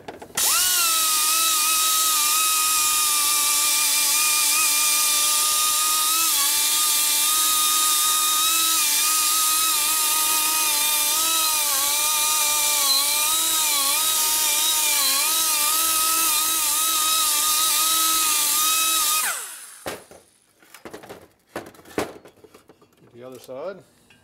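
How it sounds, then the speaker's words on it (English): A power tool grinds steadily at close range on a Harley-Davidson shovelhead stroker big-bore engine part during final deburring, a loud continuous whine lasting about twenty seconds before stopping abruptly, followed by scattered handling clatter. "do the final deburring underneath here."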